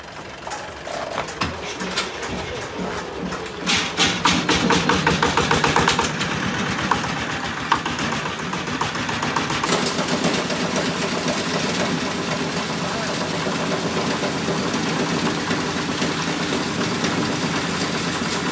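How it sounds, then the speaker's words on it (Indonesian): A waste sorting machine at a village waste processing site clatters and rattles with continuous mechanical ratcheting and motor hum, busier and louder early on and then settling into a steady churning drone. "Ini mesin apa namanya, Pak? Ini namanya mesin pemilah."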